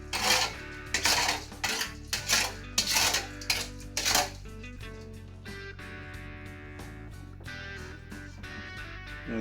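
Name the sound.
stirring soy sauce, vinegar and oil marinade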